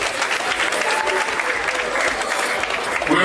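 Sustained crowd applause at an official commissioning ceremony, a dense steady wash of many hands clapping throughout with no pauses.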